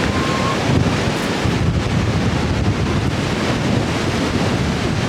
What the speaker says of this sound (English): I'll show you my little trees blowing in the wind.